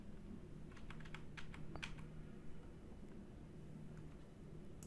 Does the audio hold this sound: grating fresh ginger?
no